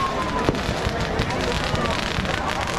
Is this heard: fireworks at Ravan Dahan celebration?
yes